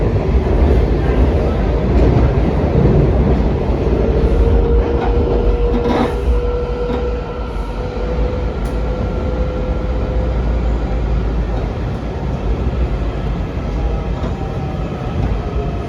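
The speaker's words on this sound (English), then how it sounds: "This is a Blue Line train to Frankfurt and Springfield." A Washington Metro Blue Line train rolls steadily along the rails, a loud continuous rumble with faint wheel squeal and clatter, heard from inside the moving car near Potomac Yard.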